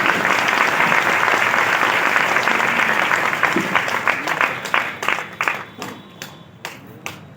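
Loud, dense applause from a seminar audience at an Ayurveda health talk, steady at first and then thinning into scattered individual claps toward the end.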